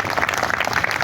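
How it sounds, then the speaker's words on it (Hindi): A gathered crowd at a sit-in protest claps loudly, producing a brief dense burst of applause. "इनके लिए एक बार जोरदार ताली बजा दी जाए।"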